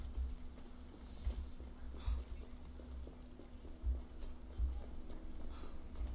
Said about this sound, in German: da reiten wir jetzt vorbei